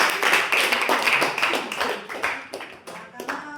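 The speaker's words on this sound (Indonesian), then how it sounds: "aplaus untuk kelompok UB" A classroom audience claps for a presenting student group, a short burst of brisk, overlapping hand claps close by that thins out toward the end.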